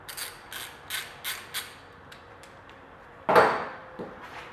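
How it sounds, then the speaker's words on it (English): A ratchet loosening the pulley bolts during a K-Tuned adjustable EP3 pulley kit install, giving several quick clicking bursts spaced apart, followed by a louder single clunk of metal and a faint click after it. "So I'm just loosening these off right now."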